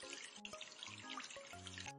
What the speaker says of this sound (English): Time to wash them with water.